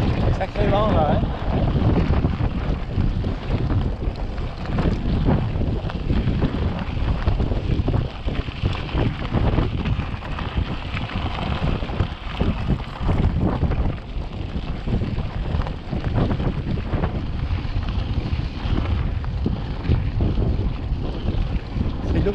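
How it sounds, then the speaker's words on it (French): Strong, gusting wind blasts steadily across the microphone for over twenty seconds on an open outdoor site near Vitrolles, a continuous loud roar with no pauses. "Sacré vent là, hein."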